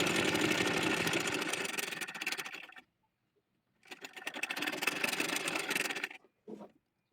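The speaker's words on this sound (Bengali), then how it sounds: "একটি হাতা চিকন করে সেলাই করে নেওয়ার পর আরেকটি হাতাকেও চিকন করে সেলাই করে নিচ্ছি।" A sewing machine stitching the sleeve of a cotton gauze baby frock, running in two bursts of about three and two seconds with a pause between, followed by a brief short run.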